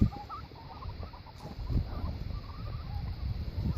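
Broad-breasted bronze turkeys make soft clucks and low chatter close by, in a steady mix of short, overlapping calls over a constant background hiss.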